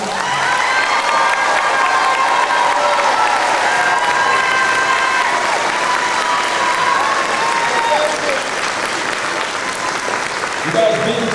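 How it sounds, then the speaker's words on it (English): Loud, sustained applause and cheering from a large crowd honor the graduating honor students at a high school graduation ceremony, lasting the whole stretch with voices and shouts mixed into the clapping. "Clap a little bit louder this time for them, please."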